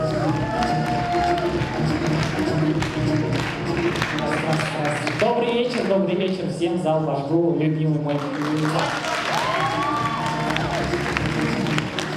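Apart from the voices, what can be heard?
audience applause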